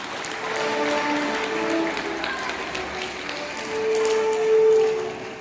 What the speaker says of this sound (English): Let's all give thunders of applause to our dear manager.